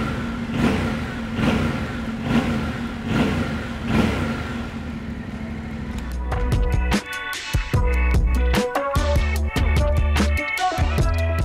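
Yamaha Tenere 700 World Raid adventure motorcycle with a 270-degree parallel-twin engine, heard close and loud, first a steady throbbing run, then sharp repeated throttle blips and revs in the second half.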